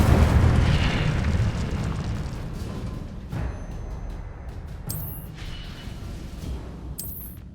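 A fire spell goes off in the Hogwarts Legacy video game, a loud roaring whoosh of flame that fades over several seconds and is followed by a couple of brief bright magical chimes.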